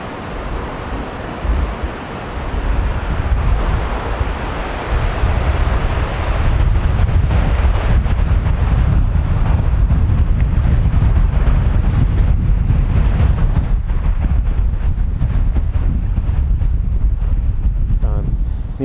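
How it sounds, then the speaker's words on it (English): Strong wind buffets the microphone outdoors on an Iowa bowhunting trip, a loud continuous low roar and rumble that swells and stays heavy throughout. "it's really windy"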